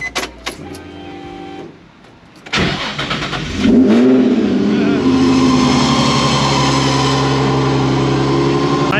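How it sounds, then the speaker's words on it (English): A 17-year-old Nissan 350Z engine cranks briefly, catches and roars to life, then settles into a loud, steady idle close by. "I'm actually just gonna go ahead and start this thing up real quick"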